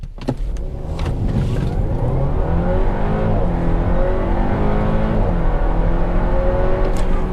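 A 2017 Audi A4 Premium Quattro pulls away hard in dynamic mode, its engine note rising steadily and loudly through the gears, close and continuous without any talk over it.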